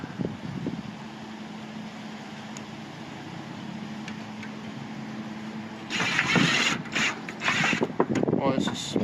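A drill with a 1/4-inch bit bites into a metal roof in several loud, grinding bursts that come one after another in the second half. Before them there is quieter rustling and handling noise.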